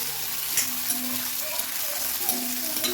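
Chopped onions and two small tomatoes sauté in hot oil in a pan for a village-style dry fish kulambu, giving a steady, close hiss of frying with faint scraping, and no talk.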